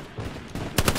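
Machine gun fire in the World War II shooter game Hell Let Loose, a short burst of several sharp rapid shots near the end after a rumbling lead-in, loud and close.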